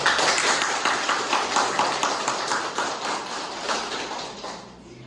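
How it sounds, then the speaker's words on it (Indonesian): Loud, sustained audience applause with many hands clapping in a steady rhythm, easing off slightly toward the end. "Mari kita berdiri, kita memberikan tepukan tangan yang meriah pada Bapak Albertus."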